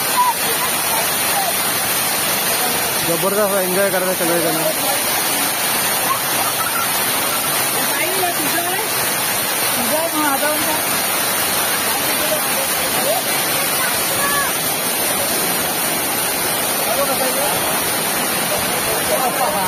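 Rain-fed roadside waterfall in the Konkan pouring down as a steady, loud broadband rush that fills the whole stretch, with people talking and shouting over it now and then.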